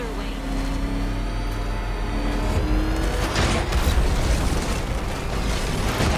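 Batmobile afterburner boost roaring in Batman: Arkham Knight, a loud sustained rumble that surges and thickens midway with bursts of noise, continuous throughout with faint voices underneath.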